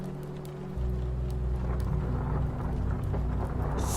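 Steady rain with rolling thunder, a dense continuous wash of falling water that swells louder after a moment, with a low rumble underneath throughout and no voices.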